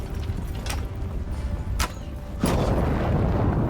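A siege tower is struck and destroyed by a siege engine shot during a battle in Mount & Blade 2: Bannerlord, with several sharp impact cracks followed by a loud, sustained crashing roar.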